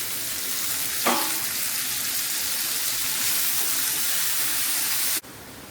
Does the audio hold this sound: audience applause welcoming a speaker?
no